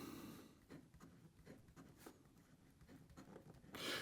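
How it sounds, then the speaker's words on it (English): Nib of a Pilot Custom 845 fountain pen scratching across paper in soft, irregular strokes, close and quiet, with a brief louder rustle at the end and no talking. "So here we go with the writing sample for the Ikkaku."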